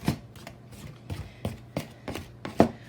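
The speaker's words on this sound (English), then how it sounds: "But the pastry blender, if you have one, does a great job." Pastry blender cutting shortening into flour in a bowl, a steady series of soft, close chopping thuds, roughly three per second.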